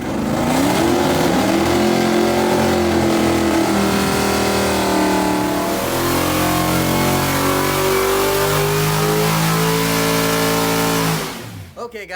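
A 583 hp small-block stroker V8 with open headers in a 1968 Dodge Dart fires up cold for the first time, revving loudly in rising and falling sweeps, then cutting off abruptly near the end.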